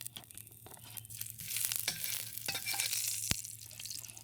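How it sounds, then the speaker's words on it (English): Ginger stir-frying in a wok sizzles quietly, with scraping stirs and crackles building in the middle and one sharp clack of a utensil near the end. "I'm using the same wok to stir fry the ginger."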